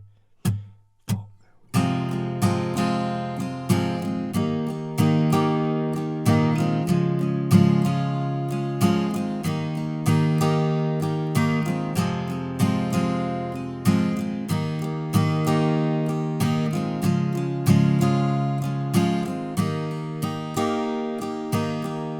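Acoustic guitar strumming the chorus chords of a song, a few single strums at first, then a steady rhythmic strumming pattern that carries on for about twenty seconds with no voice.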